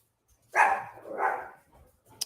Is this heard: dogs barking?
yes